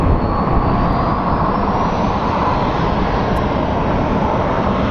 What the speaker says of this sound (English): And over to Skybridge we have Breeze Airways coming over